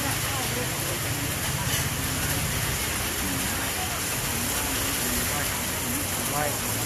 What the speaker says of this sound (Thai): อันนี้ฝนตกนะครับ